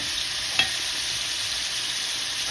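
Chicken adobo with bay leaves sautéing in a pan, a steady close sizzle with a brief stir clink early on, no talking.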